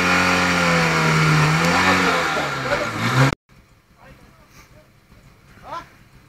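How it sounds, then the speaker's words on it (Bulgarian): Lada off-road car engine revving hard, a loud, sustained rising and falling roar that cuts off abruptly, followed by quieter distant engine noise with talk. "Той там на много газ дава, бе, човек."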